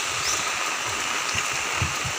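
Steady rain falling outdoors while people walk, a continuous hiss of drops with low scuffing and rustling beneath, no talking.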